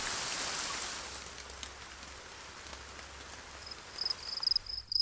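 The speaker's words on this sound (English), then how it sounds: "Rain." Steady rain on the ground across a natural landscape, a soft continuous hiss with a few brighter drop patters near the end, heard alone with no voices.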